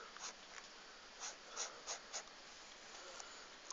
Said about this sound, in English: It's really easy to do, you actually just draw lines